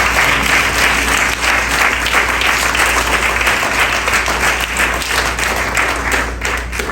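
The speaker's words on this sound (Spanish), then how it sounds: "Dale un aplauso al Señor en esta mañana." A church congregation applauds loudly and continuously, dense clapping from many hands filling the room throughout.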